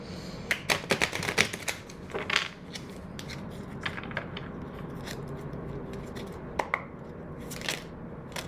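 Quick riffling clicks of a tarot deck being shuffled, bursting in short flurries near the start and again briefly later, fairly soft and close.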